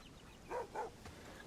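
A dog in the medieval video game Bellwright gives two quick soft barks, fairly faint, followed by a small click.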